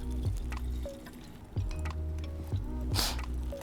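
Brewed French press coffee poured gently into a decanter, a soft close liquid stream with small splashy drips, no talk.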